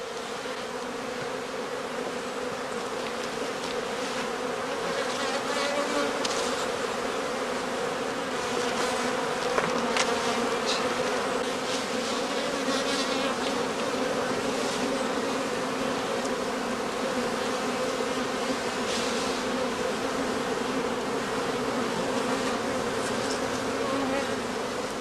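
Honey bee colonies humming around straw skeps at a heathland apiary in northern Lower Saxony during cast swarming, a dense continuous buzz of many bees with individual insects passing close by.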